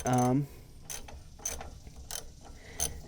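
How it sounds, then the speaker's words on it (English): A hand ratchet clicks while bolts are screwed back on during vehicle repair work, coming in four short bursts of ratcheting after a brief tonal sound at the start. "I'm gonna screw these back on just a little bit."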